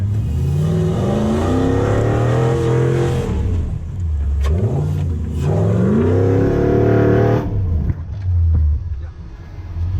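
A Toyota 3UZ V8 in a 4x4 revs hard, the engine note climbing repeatedly toward the rev limiter and dropping back between pulls, loud and close inside the vehicle, with a voice talking over it.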